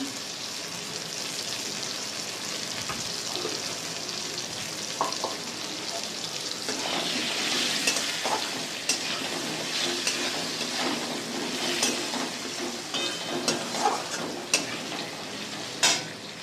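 Fish roe frying with turmeric in a pan, a continuous close sizzle with scraping stirs and scattered crackles and pops throughout, with no voices.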